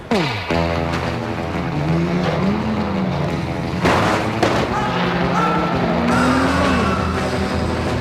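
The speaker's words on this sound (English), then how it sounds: "Officially, it's called a contact sport contested by pre-68 cars" Pre-1968 cars race in a contact banger event at Birmingham Wheels, engines revving and droning with shifting pitch, a sharp bang or impact near the middle, and a steady crowd-like wash beneath the racing.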